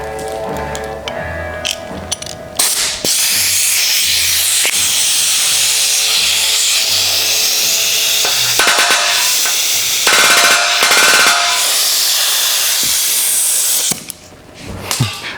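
Homemade handheld pneumatic planishing hammer, a slapper spoon, on a test run: loud, steady air-driven hissing and rapid buzzing hammering that runs almost continuously, with brief pauses and bursts near the end.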